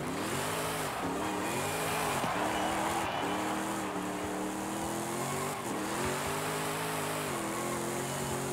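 A loud, revving muscle car wagon engine in Forza Horizon 5 roars continuously, its pitch rising and falling through repeated gear shifts, with faint tire squeal mixed in.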